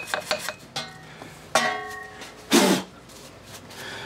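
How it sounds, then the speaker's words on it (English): Scraps of corroded aluminum from a submerged Yamaha 15 HP two-stroke outboard are flicked into a metal pan, giving a few sharp clinks and rattles spaced through a few seconds, close and moderately loud. "Let me see if I can flick most of that aluminum stuff into the pan."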